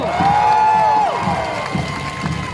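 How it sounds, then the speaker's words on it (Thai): A crowd at a street protest rally at Asok intersection in Bangkok cheers and shouts together, with one voice's rising yell standing out over the roar, then fading into scattered calls. "มีใครคิดถึงทนายอานนท์นำพาขอเสียงหน่อยเร็ว"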